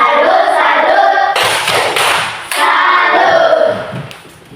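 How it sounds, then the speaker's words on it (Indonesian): A classroom group gets a short, loud burst of applause, with clapping surging briefly amid voices chanting and talking around it. "Tepuk tangan untuk kelompok 3"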